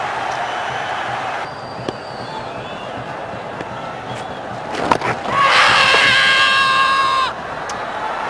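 A cricket crowd at a 2007 Bangladesh versus India one-day international salutes batsman Javed Omar raising his bat, a steady roar of distant cheering and applause with a commentator talking over it.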